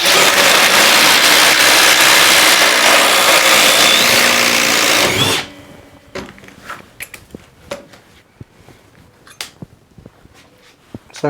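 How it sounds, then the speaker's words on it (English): A loud, steady whirring Hercules 20V brushless cordless drill with a 3/8 bit drills a hole for about five seconds, then stops abruptly, followed by quieter clicks and handling noises. "Gonna drill a hole right here."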